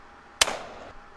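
A single sharp gunshot sound effect cracks out loud and close, then trails off in a reverberant echo tail that lingers for about half a second.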